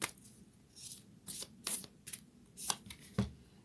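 Moonology oracle cards are shuffled in several short, soft riffling bursts, close and quiet, with small pauses between them.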